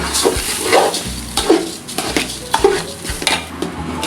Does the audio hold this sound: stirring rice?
yes